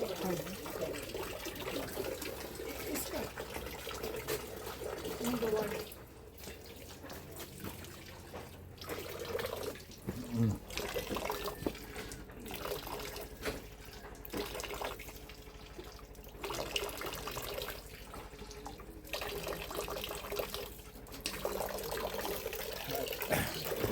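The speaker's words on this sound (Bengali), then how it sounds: "জলটা দেখতেই পেলে পাহাড়ের ভেতর দিয়ে বেরোচ্ছে, একটা বাঁশ লাগানো আছে" Spring water pours steadily from a bamboo pipe set into a mountainside in Cherrapunji, with a continuous trickle and splash heard close up and faint voices in the background.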